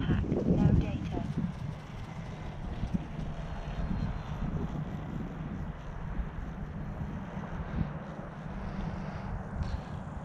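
An Air Tractor aircraft's engine drones steadily in flight with a low, rough rumble throughout, while a pilot talks over it.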